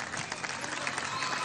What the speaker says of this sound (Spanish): Paul Gilman está cumpliendo 59 años. Vale, un aplauso, vale.